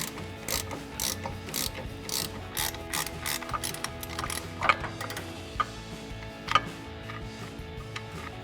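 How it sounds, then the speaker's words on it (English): An 18 mm ratcheting wrench works a strut bolt on a RAM 1500 suspension, giving close, steady runs of ratchet clicks with a few sharper metallic clanks. "It's an 18 millimeter on our ratcheting wrench."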